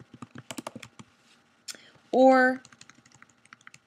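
Computer keyboard keys tapped in quick clusters of light clicks, close by, broken by a short burst of speech partway through.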